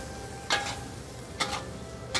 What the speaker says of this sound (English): Now let's go back to this one, stir fry again